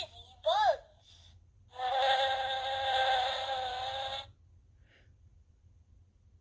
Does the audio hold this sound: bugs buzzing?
yes